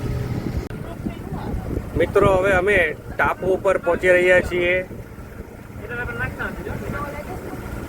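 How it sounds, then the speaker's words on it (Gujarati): A motorboat chugs along on Kerala backwaters near mangroves, a steady low engine drone with wind noise running through the whole stretch, while someone talks over it in the middle. "બોટ અમારી 2 ક્વાર્ટર ઉપર જ ચાલી રહી છે અત્યારે."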